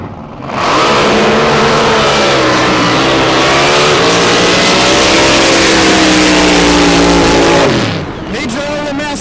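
Drag boat engine at full roar during a racing run, a loud sustained howl for about seven seconds with rising and falling pitch sweeps, then cutting off abruptly near the end.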